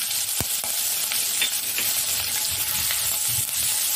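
Seven or eight finely cut garlic cloves and two chopped green chillies fry loudly in oil for an Indian-style masala pasta, making a dense, crackling sizzle throughout with a few sharp stirring knocks.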